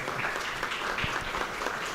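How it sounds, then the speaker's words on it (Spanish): An audience at a restaurant and tourism event applauds, a dense steady patter of many hands clapping throughout, fairly near. "Bienvenido, Alejandro, un aplauso para ti, por favor."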